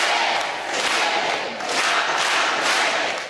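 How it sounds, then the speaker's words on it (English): Outside Sacred Heart Church in McAllen, Texas, near the U.S.-Mexico border, a big crowd cheers and chants for the Pope, the roar rising and falling in loud rhythmic surges. "the crowd erupting into cheers when they see the Pope"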